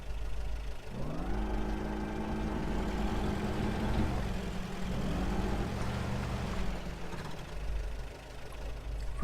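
A heavy off-road truck engine in Spintires: Mudrunner runs loud and close, rising in pitch as it revs, settling, then revving again over a constant low rumble.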